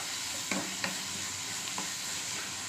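A soft, steady sizzle of onions frying in a pan until reddish brown, broken by a few faint taps of a spoon stirring, with no talking.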